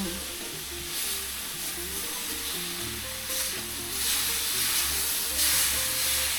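Meat frying in its own rendered oil with pepper, a loud steady close sizzle and hiss with occasional stirring scrapes, swelling slightly in bursts throughout.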